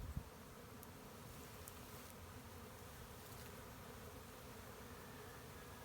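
A bee swarm hums around a hive box in a Humboldt County neighborhood, a faint, steady, dense buzzing of many insects outdoors that continues unbroken, with no talking.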